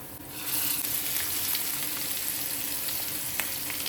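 Mussels dropped one by one into a hot frying pan for garlic arikadukka, giving a steady bright sizzle that swells early and holds, with faint clinks and stirring.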